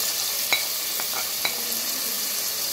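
Crushed garlic and chopped peeled tomatoes frying in a pan for a Konkani fish tomato curry, a steady close sizzle with a few light clinks of a stirring spoon.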